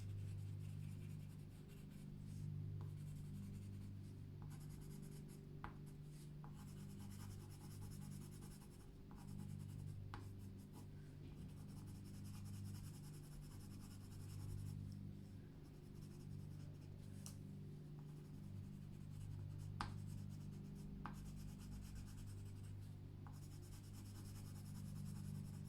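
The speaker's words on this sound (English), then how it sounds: "I'm going to blend and burnish these ones." A hot pink colored pencil blends and burnishes on paper in soft, continuous scratchy strokes, very faint and close, with a low background hum and no speech.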